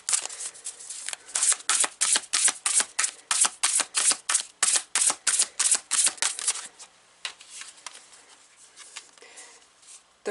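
Tarot cards are riffled and shuffled in quick, rhythmic bursts of crisp snapping flutters, each burst close and sharp. The bursts come in a steady series and then thin out into softer, scattered taps. There is no talk.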